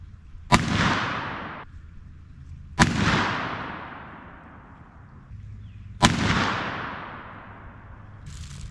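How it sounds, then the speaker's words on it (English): Three loud gunshots fired on a shooting range with Power Belt copper bullets, each a sharp crack followed by a long rolling echo, spaced a few seconds apart with quiet between them. "I'm going to start putting some shots out range."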